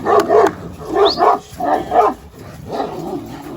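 A dog barks several times in short, uneven bursts close by, mixed with a few higher yips.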